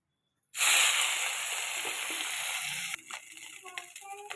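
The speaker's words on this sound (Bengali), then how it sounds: "মোরলা মাছগুলোকে আমি ভেজে নেবো এই যে ওই তেলটাতেই ভেজে নেবো" Morla fish dropped into hot oil, a sudden loud sizzle that hisses steadily for a couple of seconds, then settles into quieter crackling and popping.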